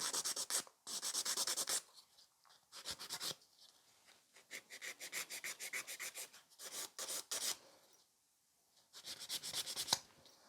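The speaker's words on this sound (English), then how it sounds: "we need to buff that, so the nail needs to come up much shorter, much shorter" A nail file buffs a fingernail shorter in quick rhythmic back-and-forth strokes. The rasping comes in bursts with short pauses, close up but quiet.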